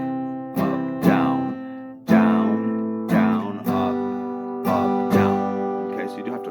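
Acoustic guitar chords strummed in a slow, steady pattern, each stroke ringing out before the next, close and clear with no voices.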